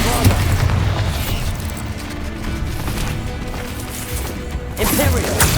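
Bombarda blasting spell exploding in Hogwarts Legacy, heavy booming blasts with rumbling low end over several seconds, loud and close, a voice speaking amid the combat noise.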